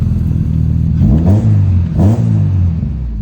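A modified car engine revs on a dyno, loud and close: two rising and falling revving sweeps over a steady idle rumble, with no talk.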